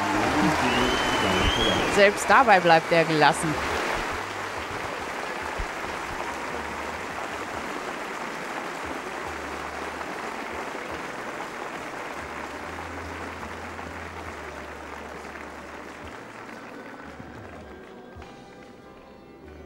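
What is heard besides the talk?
audience applause at a horse show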